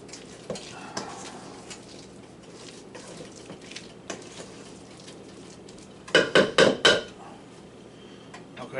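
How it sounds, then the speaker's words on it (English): A spoon stirs a smoked salmon ball mixture in a bowl, making soft scattered taps and scrapes, then a quick run of loud clattering strokes near the end. "So now I'm going to get my spoon. I'll mix this stuff together."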